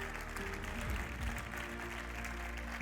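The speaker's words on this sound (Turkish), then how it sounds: "Büyük alkış istiyoruz sizlerden." Steady applause from guests at a Michelin Guide restaurant award ceremony in Istanbul, a dense wash of many hands clapping at an even level, somewhat distant and soft.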